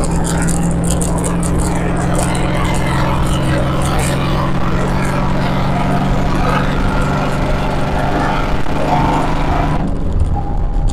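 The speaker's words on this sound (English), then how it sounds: "that exhaust sounds good in this car" A 2004 Procharged Ford Mustang Mach 1 drones with a steady, deep exhaust rumble heard from inside the cabin while driving, the low engine note constant throughout with a brief shift in tone near the end.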